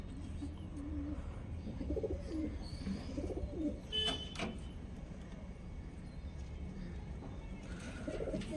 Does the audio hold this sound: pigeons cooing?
yes